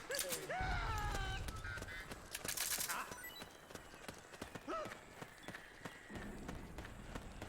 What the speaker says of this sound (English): Did that guy hear my footsteps?